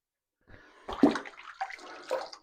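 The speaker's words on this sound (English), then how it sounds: "Wet the face if you want to. I'm wetting my face." Water splashes close by as hands scoop it onto the face before shaving in a bathroom, a few uneven wet slaps and drips over about two seconds.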